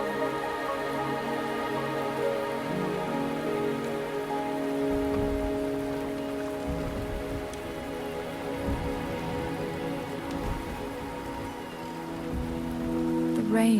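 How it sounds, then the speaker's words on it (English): Steady rainfall in the video game Wuthering Waves, a continuous hiss of rain on surfaces with a low tonal ambient drone underneath, even and unbroken throughout. "The rain is subsiding"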